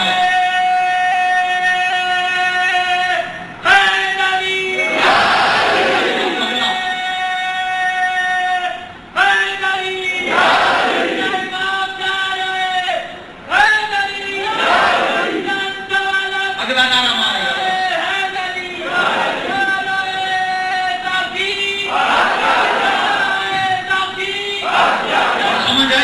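At a religious gathering celebrating Jashn-e-Molud-e-Kaaba of Hazrat Ali, a crowd chants slogans loudly in repeated call-and-response bursts, with a single amplified voice leading between the answering roars.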